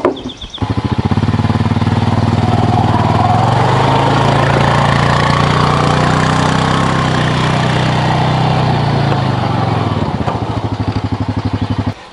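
A Honda Pioneer 500 UTV engine drones loud and close while driving in four-wheel drive, a steady, even mechanical hum held for about ten seconds before it eases off at the end, with no talking.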